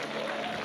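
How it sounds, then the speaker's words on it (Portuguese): A church congregation claps in a brief burst of dense, steady applause during a worship service. "você pode dar mais um forte aplauso ao Senhor"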